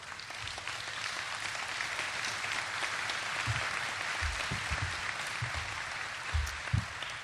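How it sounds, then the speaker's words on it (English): Audience at a keynote speech by Vinnie Cilurzo at NHC breaking into sustained, dense applause that fills the room evenly for several seconds, with a few louder claps near the end. "I'll tell them you applauded."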